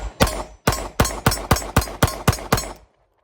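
Eight evenly spaced pistol shots from a Fusion Firearms XP Pro fired at a range with a Magpul Glock 17 magazine, each a loud, close, sharp crack, ending in silence.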